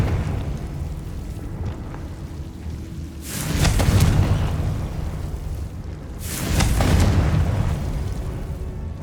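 Two deep, rumbling blasts from the Confringo fire spell in Hogwarts Legacy, each swelling loudly and then fading over a couple of seconds, separated by a calmer stretch.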